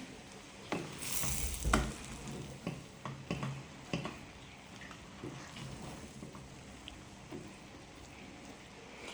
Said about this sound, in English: Now we're going to mix everything in together.